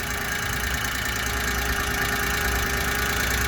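A Daewoo Matiz engine, newly fitted with a new timing belt, idles nearby with a steady, rough, slightly knocking rumble that continues evenly throughout, with no voices.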